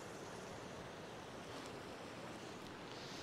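Wind blows outdoors beside a river on a Scottish island, a faint steady broadband rushing with gusty microphone buffeting and no voices.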